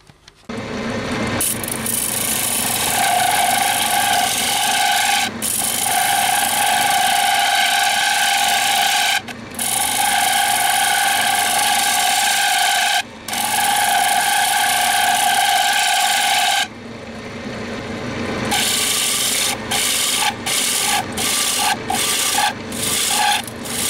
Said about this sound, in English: I'm just putting some finishing scrapes in the inside now.